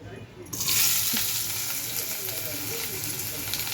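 Egg frying in hot oil in a kadhai, with chopped onion and chilli in the pan: a loud, steady sizzle bursts in abruptly and keeps crackling close up.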